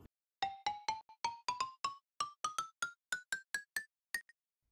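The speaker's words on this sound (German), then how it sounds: "Wenn man jetzt einen Knochenblock unter den Notenblock packt, dann bekommt man ein Xylophon" Minecraft note block played with a bone block beneath it, giving a xylophone tone: a quick run of about eighteen bright, dry wooden mallet notes climbing gradually in pitch, crisp and isolated with silence between strikes.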